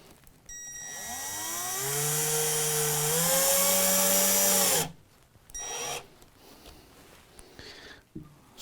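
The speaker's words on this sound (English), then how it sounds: "you can consider pre-drilling the holes." A power drill pre-drilling holes for hangers on a floater frame spins up and whines loudly for several seconds, its pitch rising and holding, then stops, followed by a few short bursts and clatter.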